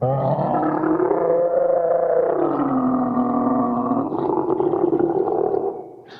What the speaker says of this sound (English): Krindlekrax heard the bouncing and, losing interest in the medal, roared at Ruskin and Elvis.